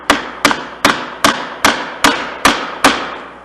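A chisel set in a scribe line is tapped into wood while hand-cutting dovetail tails, eight sharp, evenly spaced knocks about every 0.4 seconds, close and loud, each ringing briefly, with no voices.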